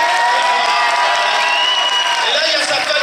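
Audience at a comedy show applauding and cheering loudly for the man who writes the jokes, a dense, steady wash of clapping and crowd noise with whoops throughout.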